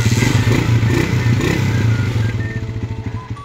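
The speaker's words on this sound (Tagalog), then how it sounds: "yung motor testingin na natin" A motorcycle engine runs on a test start after spark plug and wiring repair, idling loud and close with a rapid, steady putter and some mechanical clatter.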